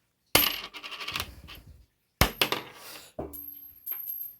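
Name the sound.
1982 copper penny dropped on cement floor, ringing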